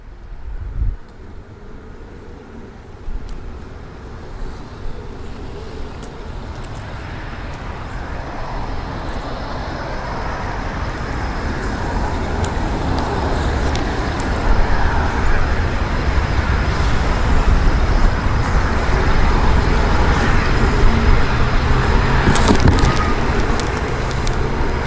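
A used Jazzy Elite HD power wheelchair driving through grass outdoors, a steady motor whine with rustling that grows gradually louder and fuller over about twenty-five seconds, with no talk.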